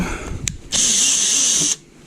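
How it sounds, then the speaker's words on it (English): A power drill with a 1/8 bit whines at high pitch for about a second drilling through metal, loud and close, then stops abruptly after a brief click. "in order to drill this out"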